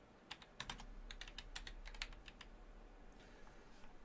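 Computer keyboard typing in a casual conversation setting, a run of quick uneven key clicks in bursts, close and moderately faint, with no talking over it.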